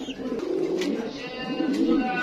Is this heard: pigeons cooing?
yes